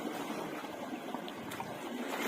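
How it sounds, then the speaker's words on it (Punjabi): Fresh water runs steadily into a buffalo swimming pool, a continuous soft rushing and splashing hiss heard up close with no talk. "ਤਾਜ਼ਾ ਪਾਣੀ ਚੱਲ ਰਿਹਾ ਹੈਗਾ"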